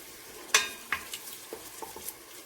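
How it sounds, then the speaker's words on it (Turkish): A spoon scrapes and clinks around a pot while chickpeas sauté, with several sharp metallic taps over a faint, low sizzle; quiet and close. "Şimdi biraz kavuracağım böyle"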